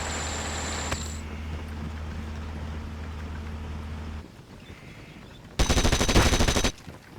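Gunfire and battlefield noise from the WW2 real-time strategy game Steel Division: a brief sharp report, a rumbling vehicle-like drone, then a dense loud burst of rapid fire near the end.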